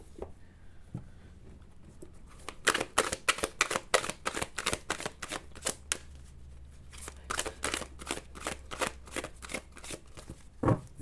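Oracle cards being shuffled by hand, a long run of crisp rapid riffling bursts and soft papery slaps, close and moderately loud, with no talking.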